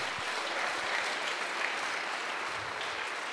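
Church congregation applauding during a sermon, a steady dense wash of clapping that holds at an even level throughout, with no voices standing out.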